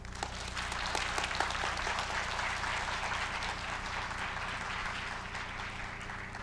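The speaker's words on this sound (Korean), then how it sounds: "앞서 귀한 인사이트 나눠주신 연사분들께 다시 한번 큰 박수 부탁드립니다." Sustained applause from a conference audience thanking the speakers at a Web3 neobank event, a dense, steady wash of many hands clapping that stays loud and even throughout with no talk over it.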